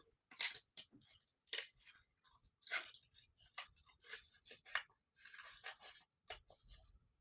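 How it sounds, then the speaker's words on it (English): Scissors snip a paper pumpkin shape in a series of short, close cutting bursts with brief pauses between them in a quiet room. "But right now I'm going to cut out the pumpkin."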